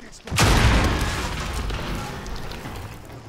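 Gunfire in Call of Duty: Modern Warfare Warzone starts as a sudden loud booming burst of shots, then fades into a rumbling echo that lasts several seconds.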